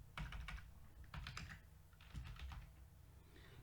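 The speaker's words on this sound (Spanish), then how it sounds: "Escribo y le doy Enter." Keys clatter on a computer keyboard while text is typed in Microsoft Word, a few quick bursts of close clicks with short gaps between them, ending in the press of the Enter key.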